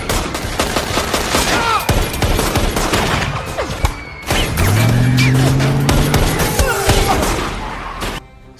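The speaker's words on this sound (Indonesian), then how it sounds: "kelompok Kuan kini harus baku tembak dengan polisi untuk membawa Mei" Bursts of film gunfire ring out through a police gunfight, dense volleys of shots with loud crashes, continuous and close, and a short pause near the middle before the firing resumes.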